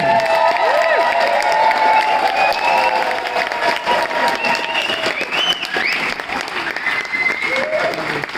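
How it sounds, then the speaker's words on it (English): An audience gives sustained, loud applause throughout, dense clapping with scattered cheers from a crowd gathered indoors. "So please give them a huge round of applause."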